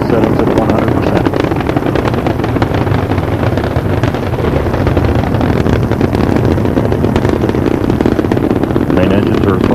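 Space Shuttle Endeavour's three main engines roar during the STS-57 launch at full throttle. The sound is a loud, dense, unbroken crackling rumble like strong wind buffeting, with a commentator's voice faintly over it.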